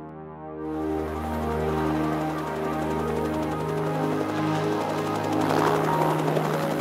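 Steady, droning throb of a military helicopter's rotors and engine in an animated series, close and continuous throughout.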